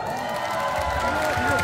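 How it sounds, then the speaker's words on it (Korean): An audience claps at a table tennis tournament in Pocheon, the applause a dense, steady patter over crowd murmur and voices speaking. "박수!"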